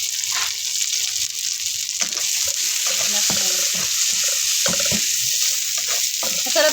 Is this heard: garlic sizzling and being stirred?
yes